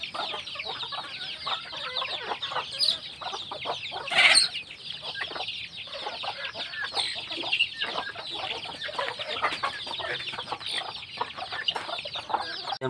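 A flock of native Bisaya chickens with chicks on a farm, nearby, clucking and peeping continuously in many overlapping calls, with one louder squawk partway through.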